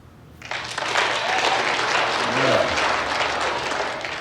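A comedy club crowd in San Francisco claps hands, a dense burst of applause swelling in after half a second and holding steady and loud, with a few voices and a whoop rising through it.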